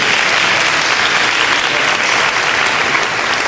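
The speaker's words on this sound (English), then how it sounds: "Please give a round of applause for Sheila" Applause from an audience at a community breakfast gathering, a steady, dense and loud burst of clapping lasting throughout, with no voices standing out.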